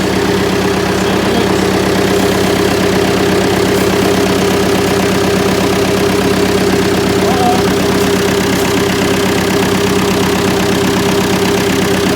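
A 990 tractor engine idling steadily just after starting up, a loud, close, constant low rumble with an even running drone and no talk.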